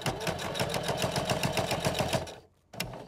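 A sewing machine stitches through thick layers of fabric for a Victorian bustle gown, its close, even mechanical pulse running loud and steady for over two seconds before a brief stop and restart.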